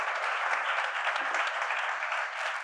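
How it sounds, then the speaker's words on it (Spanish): An audience at a business forum applauds: dense, steady clapping from many hands continues evenly throughout the short burst. "para la que pido un gran aplauso"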